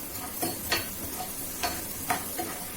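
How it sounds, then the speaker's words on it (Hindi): Food frying in ghee until crisp for a sabudana breakfast with peanuts, a steady soft sizzle broken by several scraping stirs at irregular intervals, close and fairly quiet. "अभी हम उसको 5 मिनट तक इसको ऐसे घी में थोड़ा सा भूनेंगे, जिससे कि थोड़ा सा क्रिस्पी हो जाए।"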